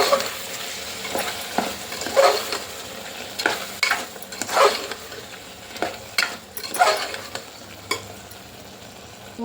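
A spoon stirs mutton tomato curry in a pan, repeated scraping strokes in an irregular rhythm over a soft sizzle, close and fairly loud.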